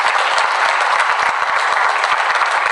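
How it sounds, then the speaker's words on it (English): A large audience at a leadership summit in India breaks into a loud, dense round of applause, with steady continuous clapping from many hands and no speech over it. "Let's once again give a huge round of applause,"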